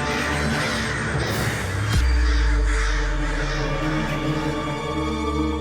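Crows cawing loudly and repeatedly in an outdoor scene, harsh calls overlapping against a steady rumbling background with a heavy low thud partway through.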